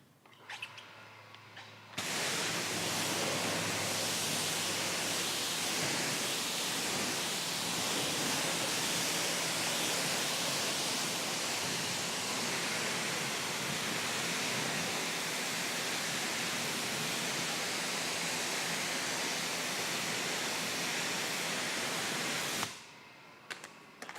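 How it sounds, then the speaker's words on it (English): A pressure washer sprays a continuous, loud, hissing jet of water while rinsing residue off a surface, starting abruptly and running steadily for about twenty seconds before cutting off. "Flush it away really good with your pressure washer"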